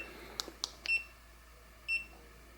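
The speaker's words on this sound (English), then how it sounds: "Don't know what the beeping means." A Xiaomi Mi 1S electric scooter gives a few short, high electronic beeps, several quick chirps followed by a longer tone and then another after a pause, heard close in an otherwise quiet room.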